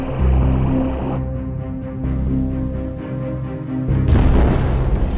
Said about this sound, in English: Based on the catastrophic explosions, Fluckey and the crew guess they have sunk 3